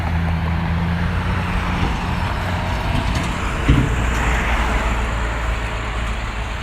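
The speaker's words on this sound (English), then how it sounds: "I'll wait for this traffic." Steady street traffic rolls along West Main Street, a continuous broadband roar of passing cars and heavier vehicles with a brief thump midway, heard alone at moderate loudness.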